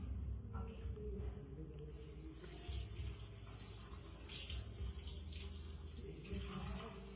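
Kitchen utensils are washed under a running tap, producing a steady low rush of water with light clatter and splashing, fairly faint and continuous.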